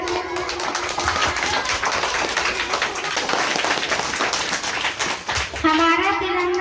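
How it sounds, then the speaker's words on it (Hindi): Scattered clapping from a group at a Republic Day celebration in a kids' coaching centre, busy and uneven hand claps throughout, with a voice and some tonal sound emerging near the end. "जोरदार तालियों से।"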